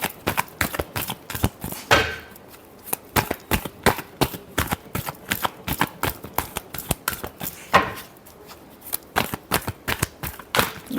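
Tarot cards being shuffled for a reading, a rapid run of crisp, close riffling flicks and taps in an uneven rhythm, with a couple of louder bridging swishes, heard alone.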